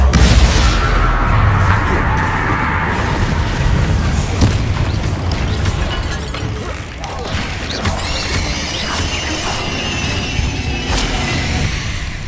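Heavy booms and crashing blasts from the Bombarda explosion spell in Hogwarts Legacy, loud and repeated across the stretch, layered with rumbling debris and game effects, with no talking.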